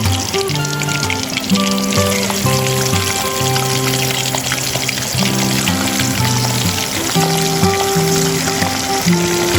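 Fish frying in a pan at an outdoor forest camp, a steady loud sizzle that runs throughout with music playing in the background.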